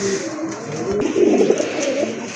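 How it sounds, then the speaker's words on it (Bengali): A male pigeon cooing nearby, a soft low rolling coo that swells and fades over a couple of seconds in a quiet setting. "এই যে ডাকতেছে এটা কিন্তু আপনার নট কবুতর"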